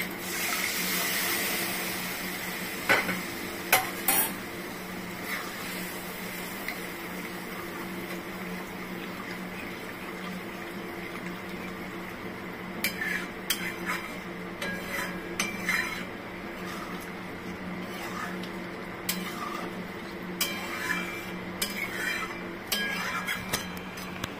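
Paneer goes into fried spice masala in a pan for a ginger garlic paneer dish, bringing a steady sizzle, with scattered clinks and scraping of a utensil against the pan that pick up in the second half.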